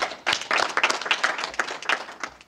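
Audience at a science workshop in Kenya claps after a vote of thanks, a dense patter of hand claps that swells and holds steady for a few seconds, fairly close and alone.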